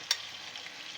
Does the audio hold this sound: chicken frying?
yes